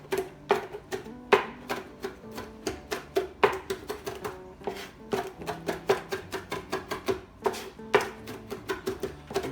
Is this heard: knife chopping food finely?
yes